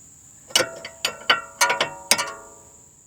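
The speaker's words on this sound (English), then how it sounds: "I'm tightening up the tension strut right now where the bushing is" Ratchet clicking in short bursts as a BMW E90 tension strut bolt is hand tightened at the bushing, several quick metallic clicking runs with brief pauses, close and clear.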